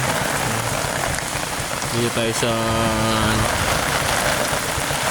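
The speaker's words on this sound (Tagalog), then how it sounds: "Malakas ng ulan." Heavy rain pours steadily onto a surface around a motorcycle delivery rider, a dense continuous hiss that fills the whole stretch, with someone speaking over it midway.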